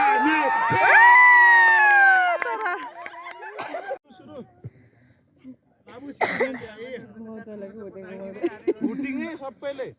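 A crowd of students cheers, hoots and laughs loudly at a college picnic, with high shouting bursts and voices talking in between.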